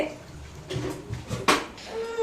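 Water runs and splashes as it fills a storage drum in a home kitchen, arriving in uneven gushes over faint background voices.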